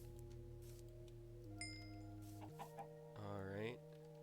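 A chicken in a video game clucks amid layered synthetic game tones, with a few brief clucks and a rising squawking burst near the end, fairly faint under steady background music.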